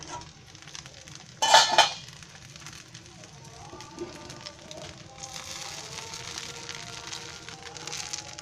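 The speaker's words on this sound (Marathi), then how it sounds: "झाकण खोलून बघते आता." A lid lifted from a cooking pan on a gas stove gives one sharp metallic clank, followed by soft sizzling and stirring of vegetables for a dosa filling.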